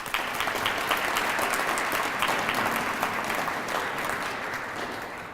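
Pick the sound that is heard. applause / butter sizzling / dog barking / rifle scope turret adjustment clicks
applause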